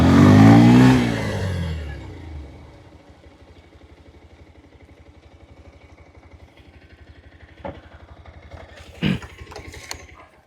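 A 2026 updated Bajaj Pulsar 125 motorcycle engine revs loudly at the start, then settles into a steady low putter for most of the stretch, broken near the end by a couple of brief sharp clicks.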